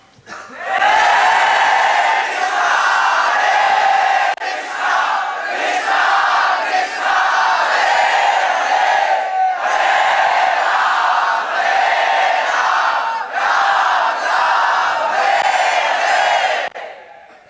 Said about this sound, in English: cry out very loudly the holy name. Krishna, Krishna, Krishna, Krishna, becomes louder.